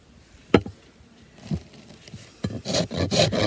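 A farrier's rasp files a 20-degree bevel into the heel end of a horse's hoof wall, scraping in a few separate strokes before a quicker run of close, coarse rasping passes.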